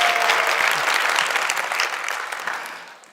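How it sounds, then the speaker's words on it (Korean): A church congregation applauds a mission team returning from Kenya, a full, even wash of clapping that gradually tapers off. "네, 우리 박수로 격려하겠습니다."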